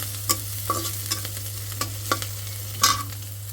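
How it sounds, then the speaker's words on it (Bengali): Shrimp frying in oil in a home kitchen, with a utensil stirring and scraping at irregular intervals over a soft, steady sizzle and a low background hum, close and no voices. "এখানে চিংড়ি মাছ দিয়ে দিচ্ছি একটু তেল দিব যেহেতু দিয়ে ভাজবো"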